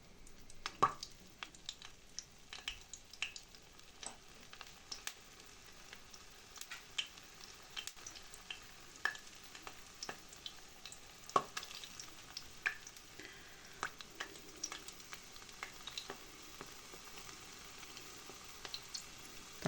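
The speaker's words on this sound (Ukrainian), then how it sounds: "даємо добре прожаритися з обох сторін" Brizol cutlets frying in a pan, a faint steady sizzle dotted with sharp scattered crackles and pops, close by, with no talking.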